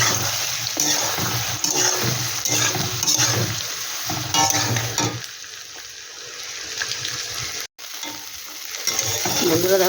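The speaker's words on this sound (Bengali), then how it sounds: "এবার আমি সোয়াবিনটা আমি দিয়ে দিচ্ছি। এটাকে এবার আমি ভেজে নেব।" Soybean chunks fry in hot oil in a wok, with a loud, continuous sizzle and scraping stirring strokes, a brief drop to near silence, then renewed crackling.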